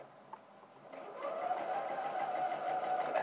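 A sewing machine stitches inseam pockets, starting quietly and then settling into a steady, fast, close whirring run of stitching with no talking.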